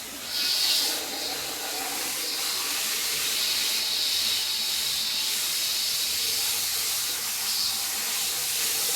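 Water sprays steadily from a hose during car cleaning, a continuous bright hiss close to the mic with slight swells in strength.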